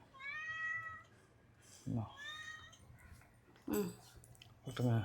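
A cat meows several times in a home kitchen, clear drawn-out calls spaced through the moment with rising and falling pitch, close and moderately loud over faint room noise.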